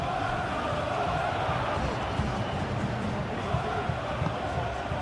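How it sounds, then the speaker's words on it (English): Stadium crowd noise in the football video game PES 21, during a Girona vs Barcelona match: a steady, dense wash of crowd roar at an even level, with faint murmuring woven through. "The crowd are calling for this to be put to bed"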